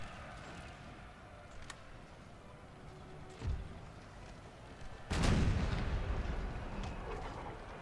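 Artillery fires canister shot in Napoleon: Total War: a muffled thump, then a louder, heavier blast that rolls on with a rumbling tail over a quiet battlefield murmur.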